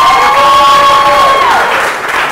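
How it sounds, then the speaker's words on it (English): Applause and cheering from a studio audience at the close of a quiz game show contest, a steady wash of claps with a bright tonal sweep over it, loud and sustained before fading slightly. "give them a round of applause"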